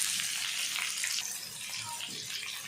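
Sliced onions hit hot oil with cumin in a pan over a high gas flame, giving a loud, steady, close sizzling hiss that runs throughout with no talking.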